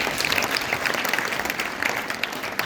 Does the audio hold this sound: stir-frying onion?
no